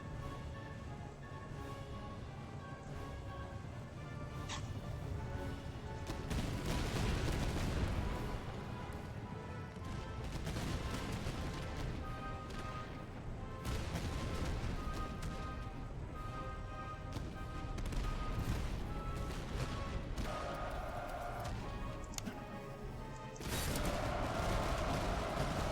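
Artillery fire in the strategy game Master of Command, heavy booms and crashing blasts repeating through a dense battle din of continuous mechanical and combat noise, with no speech heard.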